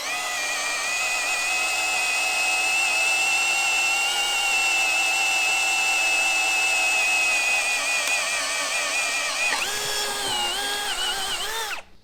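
A TECCPO 18V hammer drill boring with a large bit in first gear, a steady high whine held loud and close for about nine seconds, then the pitch wavers and drops as the bit breaks through before the motor stops.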